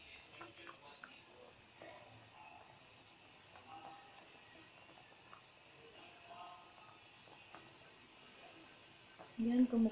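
A pot of sotanghon noodle soup with fried tilapia, salt and patola simmers on the stove, giving a low, steady bubbling and faint sizzling hiss throughout, with quiet background noise and a louder clatter at the very end.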